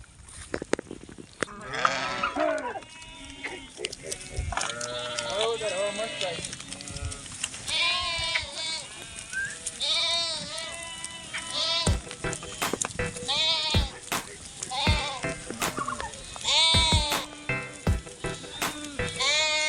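Goats and sheep move in a herd through the Gir countryside in steady rain. Many overlapping bleats from several animals continue throughout over a constant hiss of rainfall, with occasional sharp knocks and a person talking.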